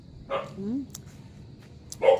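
A dog barks in short separate bursts, one early and another at the end, moderately near, with people talking in the background between the barks.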